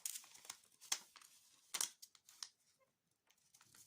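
Paper is creased and folded for Easter origami, giving close, sharp crinkles and snaps at irregular moments, separated by quiet gaps.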